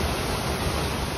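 A waterfall in a wadi in Jordan gives off a brief, steady, full rush of falling water, close and loud.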